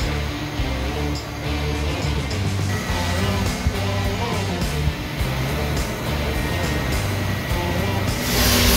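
A Mazda Cronos idles high, around 1000–1100 rpm, in a repair shop while an idle control sensor fault is sorted out. A steady low engine hum runs throughout with faint workshop clatter around it.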